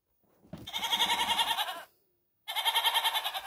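Two loud, close goat bleats from a children's Minecraft-style educational game, each a long wavering cry lasting over a second, separated by a brief silence.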